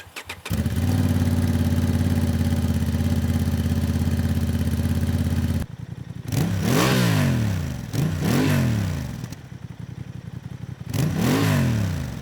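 A 2025 Honda CB750 Hornet motorcycle engine idles steadily, then revs loudly in several sharp throttle blips that rise and fall in pitch, with no voices.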